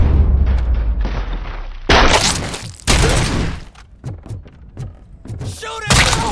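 Heavy gunfire from the Robocop video game blasts in loud bursts and rapid repeated shots, with booming impacts between them and a sharp final volley.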